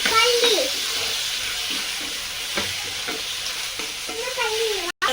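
Tomatoes go into a pan of frying onion, green chili and ginger paste, giving a steady loud sizzle with scraping stir strokes, close up and without talk, ending in a brief dropout.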